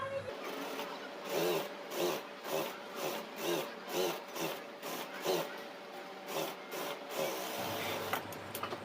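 A sewing machine stitches folded piping onto a fabric band in short, uneven bursts, its rhythmic chugging pulsing close and moderately loud with brief pauses between runs.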